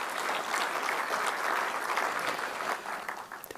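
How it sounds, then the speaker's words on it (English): An audience gives applause for Dr. B M Hegde at a health talk: a dense, even burst of many hands clapping, sustained for a few seconds before tapering off. "Let's have a big round of applause for Dr."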